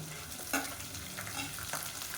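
About thirty whole small shallots frying in a pan for plain kulambu, a steady soft sizzle with a few clinks and stirring scrapes close by, no voices.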